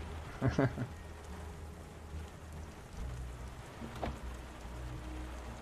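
Steady rain falls in the video game Beyond: Two Souls, a dense hiss of drops with a couple of brief louder splashes or impacts, moderately loud throughout.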